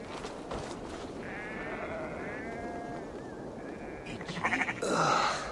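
Sheep bleating in Assassin's Creed Valhalla, a few wavering calls in sequence over an ambient game backdrop, followed by a louder rustling burst near the end.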